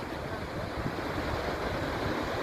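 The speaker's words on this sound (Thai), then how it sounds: "ทะเล เมดิเตอร์เรเนียนนะครับ ทะเล อยู่ตรงหน้าผาเลยนะครับ" Mediterranean Sea surf breaking below a cliff, a steady broadband wash of waves mixed with wind noise on the microphone, constant and fairly loud throughout without speech.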